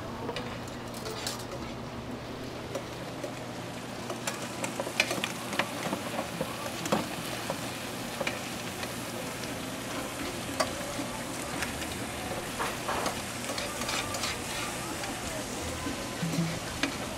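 Onions fry in a pan with a steady, crackling sizzle and occasional scraping stirs throughout, close and continuous, with voices faintly in the background.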